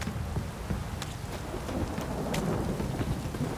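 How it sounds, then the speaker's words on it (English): Heavy rain pours steadily and densely in The Witcher 3 Next Gen on PC, a loud continuous hiss with scattered sharper drops and a low rumbling undertone, no voices. "This downpour's a bastard"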